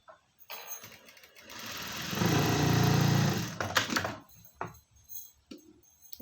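A sewing machine stitches a patch onto a blouse, running in a loud continuous whir for about two seconds that rises, peaks, then slows and stops. Shorter motor bursts and light clicks come before and after.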